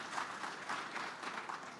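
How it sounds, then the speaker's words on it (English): Audience at a business forum in Nairobi claps steadily in a soft, even patter that sounds distant and moderately quiet, with no voices over it. "Let's clap for her, it's more reassuring."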